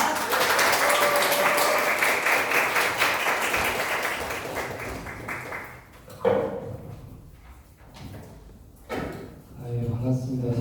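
Audience applause at a Korean public-transport policy seminar, a steady wash of clapping that fades over several seconds before scattered thumps and a speaker's voice take over.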